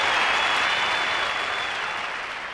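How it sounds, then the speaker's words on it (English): Steady audience applause from a Navy ship's crowd at an awards gathering, a dense even wash of many hands clapping that fades slightly toward the end. "Give them a round of applause."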